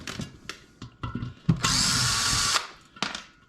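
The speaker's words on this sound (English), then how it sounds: "I'm going to start removing screws wherever I see them" Power screwdriver or drill backing out screws while a ceiling fan is torn down for scrap copper: short bursts of tool whir and clicking handling noises, then one sustained loud whine of about a second, followed by further brief taps, close up.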